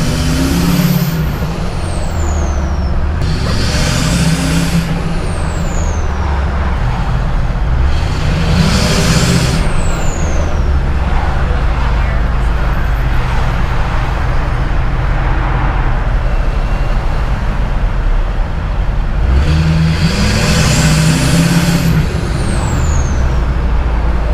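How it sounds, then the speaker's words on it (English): A lifted truck's exhaust roars loudly and continuously in New York City, swelling with a few hard revs that rise and fall in pitch. "have fun with your car's exhaust, or in my case, my truck's exhaust"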